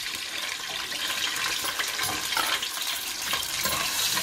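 Onions and tomatoes with whole spices frying in a pan for lamb kaleji, a steady bright sizzle with some stirring, close and continuous with no talking.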